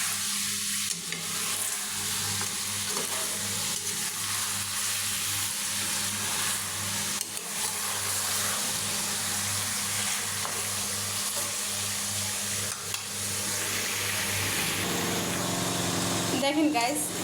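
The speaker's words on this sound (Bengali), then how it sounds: "আমি মাংসটা কষিয়ে নিলাম" Chicken meat braising and being stirred in a pan without added water, a steady close sizzle with scraping stir strokes running throughout, with faint intermittent background noise.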